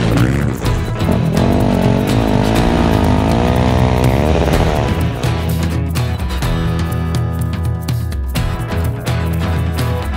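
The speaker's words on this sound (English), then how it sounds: "It feels totally normal until that turbo spools, and then it's hanging out for dear life." A turbocharged motorcycle engine revs hard, its loud, buzzing note climbing and wavering in pitch as the turbo spools, then settling into a steady, rough drone with no voices.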